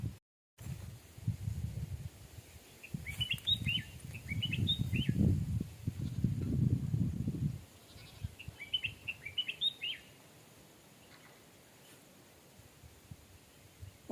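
Small birds chirp in short high bursts from a cashew tree in the evening countryside, two clusters of calls heard over low rumbling wind noise, then near quiet at the end.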